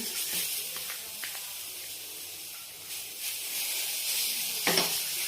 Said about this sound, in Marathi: इकडं पॅन गरम करायला ठेवला आहे तर ही चटणी आपल्याला याच्यामध्ये टाकून घ्यायची